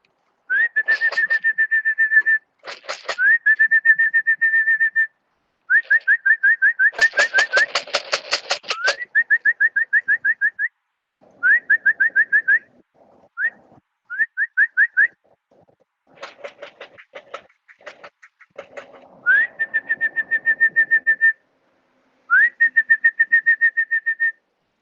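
Racing pigeons out in the open with repeated whistling calls in bursts over about twenty-five seconds, fairly loud and close, separated by short gaps of quiet.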